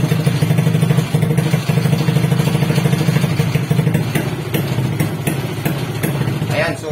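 A Suzuki Smash 115 motorcycle engine idles with a misfire, a close, loud, lumpy low chug with irregular knocking beats running throughout, and a brief higher rev near the end.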